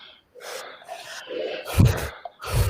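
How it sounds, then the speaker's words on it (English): Rapid, forceful breathing during a guided breathing exercise: a string of quick, loud breaths and gasps, the last few heavier bursts puffing close to the microphone. "let's go back into that rapid breathing for one more round."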